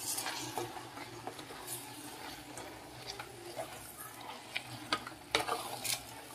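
Soft scraping and stirring as chopped coriander is mixed into cooked ridge gourd and tomato in a pan, quiet irregular clinks of a spoon against the vessel over a faint low sizzle.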